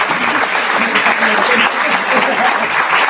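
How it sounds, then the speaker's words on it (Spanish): An audience at a book presentation applauds loudly and steadily, a dense continuous wash of many hands clapping that holds at full strength throughout. "podemos dedicarle el aplauso al libro, a ellos y también a las mujeres escritoras"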